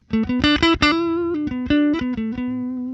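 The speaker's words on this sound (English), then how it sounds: "which is run through a very clean amp." Electric guitar through a clean amp picks a quick run of single notes, clear and undistorted, settling onto a held note at the end.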